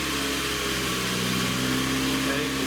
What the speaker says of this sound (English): I'll have them start the engine for us.